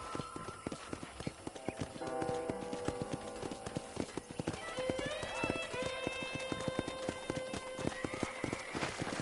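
Steady clip-clopping of horse hooves in a quick, even rhythm from the video game Red Dead Redemption, with layered music and tones playing over it throughout.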